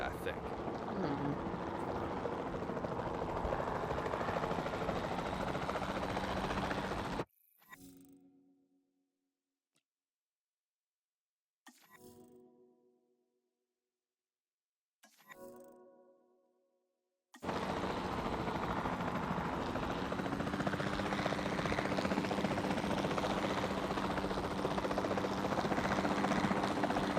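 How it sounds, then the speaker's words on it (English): Capture team helicopter in Jurassic World Evolution 2 with a loud steady rotor roar that cuts out for about ten seconds, broken by a few short fading bursts, then resumes at full strength. "Then the sensible thing is to take a capture team helicopter."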